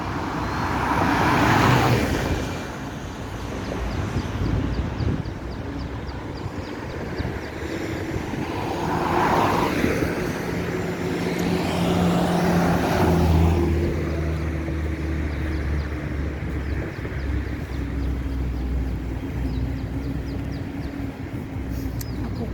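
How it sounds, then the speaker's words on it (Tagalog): Highway traffic rolls past near industrial buildings, a continuous roadway rumble that swells and fades as vehicles pass close by, with no one talking. "Sa highway."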